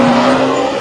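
A toy race car sound effect, a loud, short, steady engine whine with a squealing tire tone, heard up close and alone.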